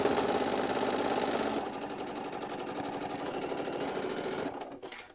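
A sewing machine stitches around a fabric daisy center in a steady, fast mechanical whir close by. The motor slows slightly partway through and stops near the end, with no voices.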